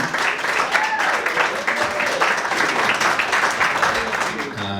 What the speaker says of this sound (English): Start clapping your hands for Will Poznan.